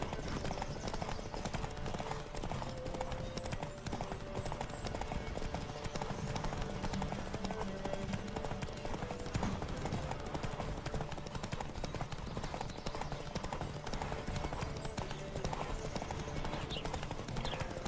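Several horses gallop in a race in The Witcher 3, their hooves drumming a fast, continuous clip-clop at steady volume throughout, with faint game sounds underneath.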